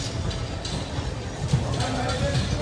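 A Ratnagiri–Diva passenger train pulling away, its low engine rumble and rolling wagons steady and close under chatter from passengers on board.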